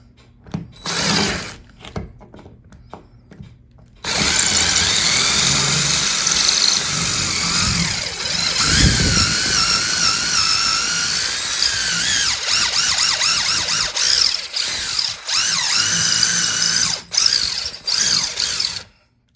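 A power drill pre-drilling wood for wall-mount lag bolts whirs loudly and steadily for about fifteen seconds after a brief quiet start, its pitch dipping and rising as it bites into material.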